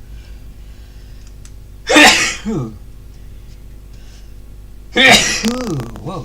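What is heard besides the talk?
double sneeze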